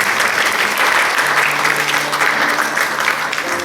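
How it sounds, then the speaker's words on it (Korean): A church congregation at a Korean Presbyterian Sunday service claps in sustained, even applause that fills the room from start to finish. "박수를 또 한번 하실까요?"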